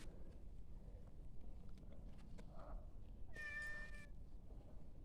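A single cat lets out one clear, fairly loud meow midway through a quiet Kerala village kitchen scene, over faint low background hum and no talking.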